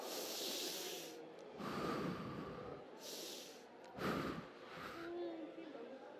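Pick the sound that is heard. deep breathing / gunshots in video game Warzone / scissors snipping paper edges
deep breathing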